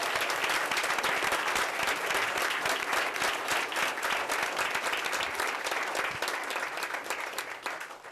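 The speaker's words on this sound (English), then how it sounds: "I want you all to give him a round of applause" Sustained applause from an audience at a press conference, dense steady clapping throughout that tapers slightly at the end, no voices over it.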